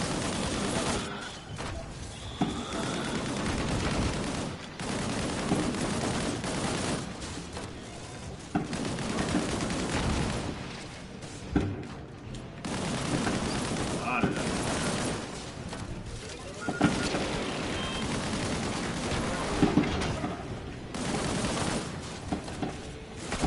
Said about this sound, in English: Fireworks going on in the background right now.